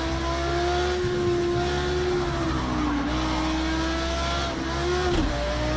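Race car at Le Mans in the video game Project Cars 2 drones with a steady high-revving engine, pitch dipping briefly at shifts or braking, with faint tire noise.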